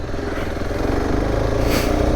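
A Zontes R1 310 motorcycle engine revs while riding, a close, throbbing pulse that rises in intensity with rough clattering underneath.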